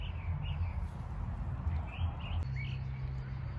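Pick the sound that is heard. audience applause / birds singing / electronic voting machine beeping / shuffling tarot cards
birds singing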